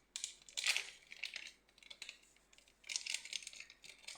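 A small vanilla sugar packet crinkles and rustles in a home kitchen during chocolate cake preparation, in two bursts of dry papery crackling with a short pause between.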